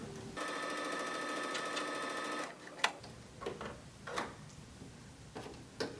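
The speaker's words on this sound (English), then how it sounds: "And then begin sewing." A domestic sewing machine runs a steady, close mechanical whir for about two seconds while sewing shirring rows with elastic thread, then stops, followed by scattered clicks and handling knocks.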